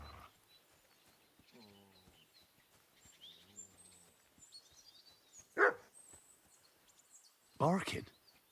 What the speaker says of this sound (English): Barking.